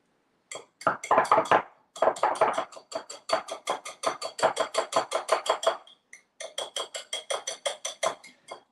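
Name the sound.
whisk punched up and down in sticky scone mixture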